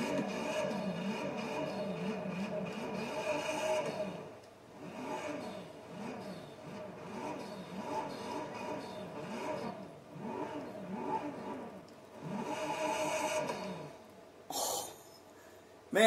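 Hennessy Velociraptor 6x6 truck engine in Forza Horizon 4, revving repeatedly in surging bursts with a steady rumbling idle between them, loud and close, with no talking.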